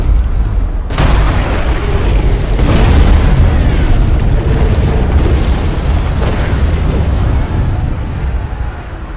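A huge video-game blast levels a whole intersection: a sharp boom followed by rolling, rumbling debris and secondary bursts, loud and close throughout.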